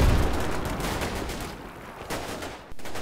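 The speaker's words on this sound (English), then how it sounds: "One positions itself just below the crest of the ridge and begins laying down a barrage on the anti-tank gun position." A 60mm mortar barrage in the Combat Mission Fortress Italy war game on a ridge near Hill 1234: muffled, distant rumbling impacts blending into a continuous roar, with a sharper thud late on and no talking.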